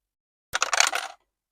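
Six-sided dice rolled across a table, a quick rattling burst of clicks and taps lasting under a second, close and fairly loud with no talk over it.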